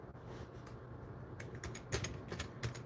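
Keys clack on a computer keyboard in quick irregular bursts, close and fairly quiet against a steady background hum, with no voices.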